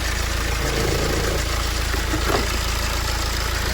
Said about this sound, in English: the engine runs normal